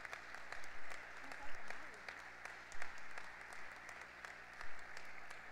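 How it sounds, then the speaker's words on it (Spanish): Audience applause for long-standing families at a school graduation ceremony, continuous distant clapping with a low hum underneath and occasional murmuring voices rising above it. "Les damos un gran, gran aplauso a estas familias más antiguas."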